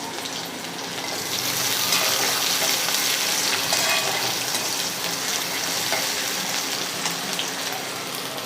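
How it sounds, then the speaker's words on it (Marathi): Finely chopped onion sizzles in a pan of hot oil, a dense, steady crackling hiss that stays close and even from start to finish, with no voices over it. "कांदाही टाकून घेऊया एक छोटा कांदा आहे बारीक कापून घेतलेला आहे"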